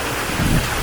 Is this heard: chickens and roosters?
no